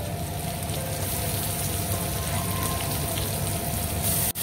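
Tomatoes sizzle and fry in hot oil tempering for a dill greens dish, a steady, even crackling hiss that continues without pause, fairly quiet and close.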